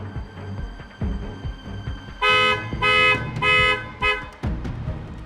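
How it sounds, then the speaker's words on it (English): A BYD car's alarm sounds after its door is opened by the lever, giving loud repeated electronic horn-like blasts in several bursts over a running engine. "if I was to open up the actual door using the lever, the alarm will most likely go off"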